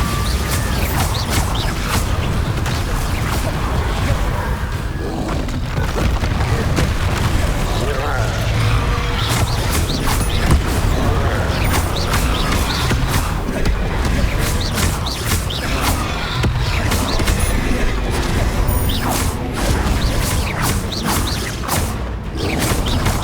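Bombarda explosion spells in Hogwarts Legacy combat go off as repeated loud blasts and whooshes within dense, continuous battle noise.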